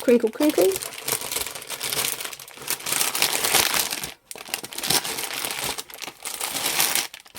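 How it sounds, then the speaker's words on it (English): Plastic packaging from a cross-stitch kit crinkling continuously and loudly up close, rustling in long waves with a brief pause midway and a short spoken exclamation at the start. "Oh, the plastic crinkle."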